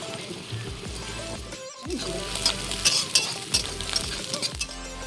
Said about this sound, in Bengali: পেঁয়াজ কাজু সব দেখো লাল লাল করে ভাজা হয়ে গেছে